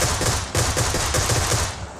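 Rapid automatic gunfire in the mobile battle royale PUBG Mobile, loud close bursts of rhythmic shots fired in quick succession, with a short pause around the half-second mark, and no talking.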